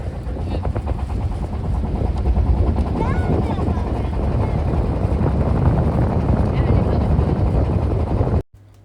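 Trawler boat engine running on a canal in the Kishoreganj haor area of Bangladesh, a loud continuous low drone with wind buffeting the microphone, cutting off abruptly near the end.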